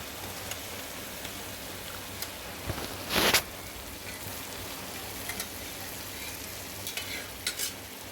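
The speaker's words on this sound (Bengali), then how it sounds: "তো এর মধ্যে আমি এখন মাংসগুলোকে এক এক করে দিয়ে দিচ্ছি।" Mutton pieces dropped into onions frying in oil in a pan, a steady broad sizzle with a loud scrape of stirring near the middle and a few small clinks and spatters, no voices.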